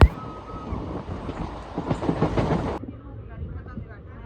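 Trains cross past the moving Krishna Express in a loud, rushing rumble with rapid rattling that swells and then cuts off sharply, leaving a quieter hum.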